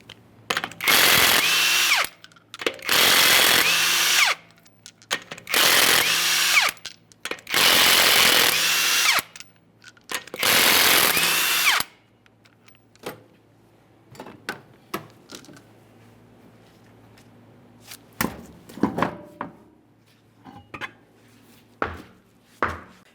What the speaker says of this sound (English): you have 6 21mm lug nuts. We can remove those and the wheel from the vehicle.